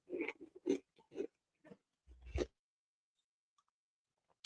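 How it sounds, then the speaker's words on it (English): Someone eats a pickle, a few close, wet crunching bites in quick succession followed by silence. "I heard the pickle crunch."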